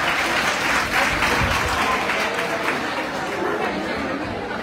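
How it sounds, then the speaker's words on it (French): A debate audience claps loudly for the cameras, a dense, continuous wall of applause mixed with crowd chatter, steady from start to finish. "Applaudissez très fort pour ces caméras."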